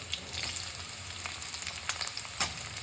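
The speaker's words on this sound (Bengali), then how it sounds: "দিয়ে দিলাম ফুলকপি ফুলকপিটা একটু নাড়াচাড়া করে নিয়ে আমি দিয়ে দেবো পেঁয়াজগুলো" Cauliflower and onion sizzle and fry in a pan for vegetable chowmein, with a steady crackling hiss and occasional scraping stirs, close and moderately loud, with no talk.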